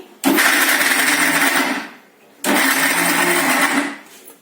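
A mixer grinder whirs loudly in two bursts of about two seconds each, separated by a short pause, coarsely grinding jujube fruit.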